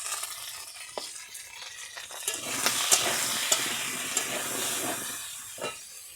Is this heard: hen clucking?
no